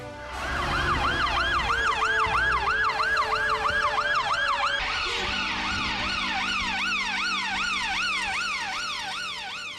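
A loud police siren wails continuously nearby, first in a slower rising-falling cycle, then switching to a faster yelping pattern.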